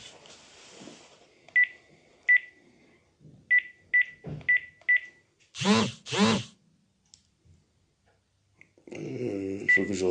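Telephone keypad dialing tones sound as a series of short, evenly spaced beeps, close and clear. A few louder tonal bursts break in partway through, with a sustained tone near the end.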